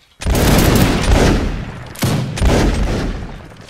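A reenactment battle line fires a musket volley: two loud, ragged rolling bursts of many overlapping gunshots, the first just after the start and the second about two seconds later, each decaying with echo.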